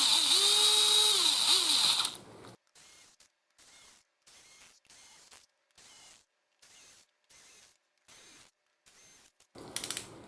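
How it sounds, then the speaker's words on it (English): A power tool gun on its lowest setting runs in the cylinder head bolts of a 2011 Audi TT Quattro 2.0T TFSI engine. A long whirring burst is followed by about nine short, evenly spaced ratcheting pulses and one final loud burst. "I'm going to very lightly just run these in on this gun's lowest setting."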